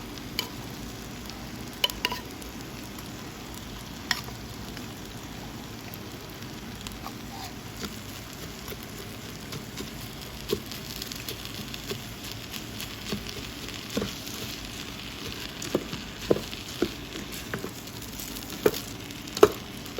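Sardine fish and sauce being stir-fried in a pan, a steady soft sizzle under frequent scraping and stirring taps, close and continuous throughout with no talking.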